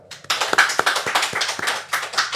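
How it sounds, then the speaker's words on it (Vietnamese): A church congregation starts clapping after a short pause, building into a brisk round of applause with distinct sharp claps from nearby hands, fairly loud and close. "cho một tràng pháo tay"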